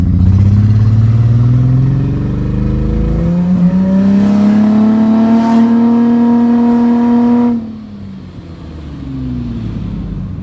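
A car with a cut-off exhaust revs hard, its engine note climbing steadily in pitch to a loud, raspy high-rpm howl, then dropping sharply back to a rough idle.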